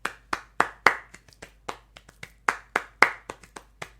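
Flamenco palmas, sharp individual hand claps struck in an irregular rhythm, crisp and close, with some louder accented claps among softer ones and short silences between them.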